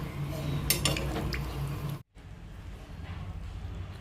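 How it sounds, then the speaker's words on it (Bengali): A spoon stirring broccoli curry in a metal pan after a little water is added, giving close scraping and clinking for about two seconds, then a short break and a softer, quieter bubbling hiss. "এবার দিয়ে দিচ্ছে সামান্য একটু জল ভালো করে একবার নেড়ে নিচ্ছে"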